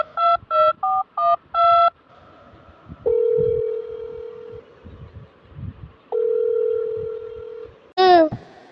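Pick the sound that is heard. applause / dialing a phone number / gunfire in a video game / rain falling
dialing a phone number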